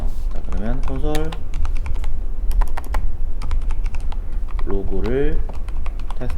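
Code being typed on a computer keyboard, steady close key clicks running underneath a voice speaking Korean at the start and end.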